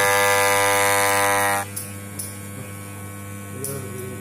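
A Wahl Super Taper hair clipper motor runs with a loud, steady buzzing hum that cuts off abruptly partway through, leaving only faint clicks and handling noises afterward.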